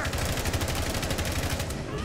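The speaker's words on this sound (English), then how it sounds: "What the fuck is this shooting through the wall and shit?" Rapid gunfire in Rainbow Six Siege fired through a wall, a dense continuous burst of shots that fills the whole moment.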